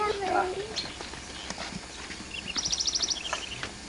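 Horse on a farm, with scattered hoof clops and soft snorting mixed with bird chirps outdoors, faint and intermittent, while voices are heard nearby.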